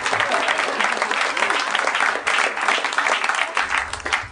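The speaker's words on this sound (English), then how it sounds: "Seems like a good time to give him a round of applause." A live comedy podcast audience claps and cheers loudly and continuously, filling the room for several seconds with dense, even applause.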